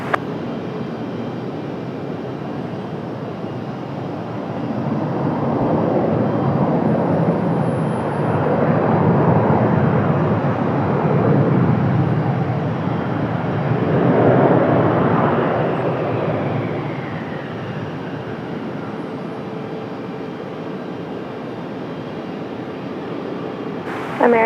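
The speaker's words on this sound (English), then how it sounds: "All right, United off to Newark, New Jersey." A United Boeing 737-900 airliner takes off at Raleigh-Durham, its engine roar swelling into a broad rushing rumble that peaks and slowly fades into the distance.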